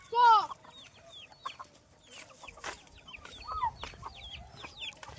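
Chickens on a farm crowd close with loud clucking and squawks, one sharp call up front, then a busy mix of overlapping clucks and chirps continuing as the flock moves along behind someone.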